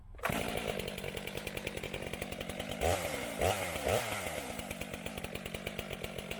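A chainsaw with a 20-inch bar cuts wood under moderate load, its engine buzzing steadily with a rapid regular pulse, close and loud, rising briefly in a few bursts midway.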